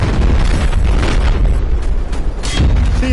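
Battlefield 4 gameplay explosion: a C4 charge detonates, producing a loud, dense, sustained boom with rumbling low-end debris throughout and a second surge near the end.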